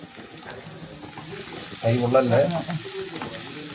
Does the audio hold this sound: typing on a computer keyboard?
no